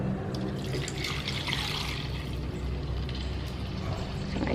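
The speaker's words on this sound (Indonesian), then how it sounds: "Sekarang langsung aja kita tambahin air." Water pours steadily into a cooking pot for chicken noodle broth, a continuous close splashing and gurgling rush lasting throughout with no voices.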